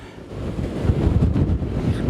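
Strong, steady wind buffets the microphone over a low, continuous roar of surf on the Outer Banks during Hurricane Erin, with no voices.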